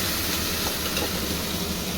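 Ground cumin, chili and coriander sautéing with potato and tomato in a pan for koi fish curry, giving a dense, continuous close sizzle with faint stirring scrapes.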